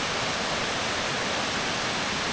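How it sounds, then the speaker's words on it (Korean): Shirahige waterfall near Sapporo, still flowing unfrozen in winter, gives a steady, dense roar of rushing water that holds constant and loud throughout, with no voices. "흰수염 폭포로 가는 길입니다"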